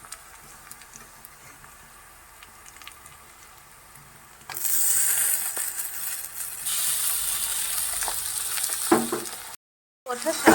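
A ginger, chili and garlic masala paste sautés in a pan for a red chicken masala. A quiet stretch gives way to a sudden loud, steady sizzle with faint stirring ticks, and no talk.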